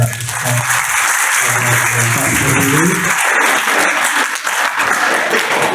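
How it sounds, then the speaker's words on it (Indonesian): Applause from the audience at a school prayer gathering, loud and sustained, with some low murmuring voices early on before the clapping fills the whole stretch. "Ya, beri tepuk tangan pada"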